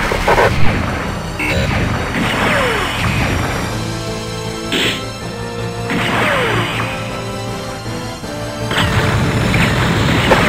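Game combat from Gundam Side Story 0079: Rise from the Ashes on Dreamcast, an enemy mobile suit destroyed amid repeated loud crashes and explosive thumps, with bursts of impact noise recurring every few seconds over a dense, busy background.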